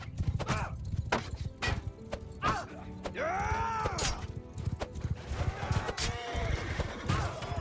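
Horses neighing and whinnying during a medieval video game battle with horse archers, with several loud whinnies over clip-clopping hooves and clashing combat sounds.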